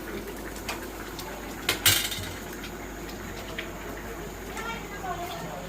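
A pot of boiled milk is lifted off a stove and covered, marked by a sharp metallic clank of the pot and lid amid low kitchen background noise, with a few faint softer knocks afterward.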